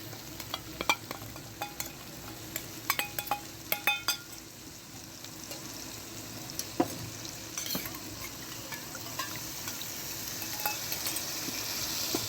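Yogurt spice mix stirred into fried onion and tomato for bhindi gosht, with a soft sizzle under repeated spoon scrapes and knocks against the pot, busier early on and then calmer.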